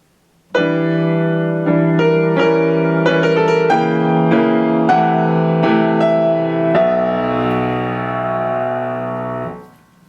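Solo piano plays bar 16 of Chopin's Prelude Op. 28 No. 4, a sustained passage of rich, ringing chords with a melody on top, ending on a held chord that slowly fades.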